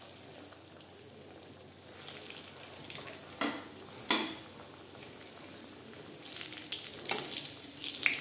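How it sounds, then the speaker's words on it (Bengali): Flattened-rice (chira) croquettes fry in hot white oil, giving a soft, continuous sizzle with two sharper bursts midway as pieces go in, and the bubbling grows louder toward the end. "এর মধ্যে আমি দেখেন এই যে বানিয়ে রেখেছি চিড়ার চপগুলো দিয়ে দেবো।"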